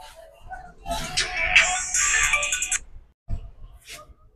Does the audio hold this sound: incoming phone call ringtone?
yes